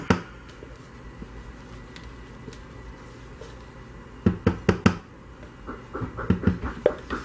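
Knocking on a door comes in two quick clusters of sharp raps, three or four per burst, close and distinct against a quiet room after a lone knock at the start.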